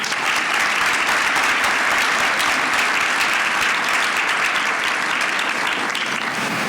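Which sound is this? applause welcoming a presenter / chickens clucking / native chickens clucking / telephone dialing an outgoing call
applause welcoming a presenter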